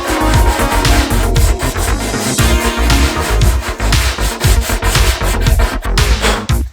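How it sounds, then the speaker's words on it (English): Loud, vigorous rubbing strokes of hand sanding a plastic Harley-Davidson FXR motorcycle fairing, rapid back-and-forth scratchy passes repeating without pause, close to the listener. "so there's our first round of sanding"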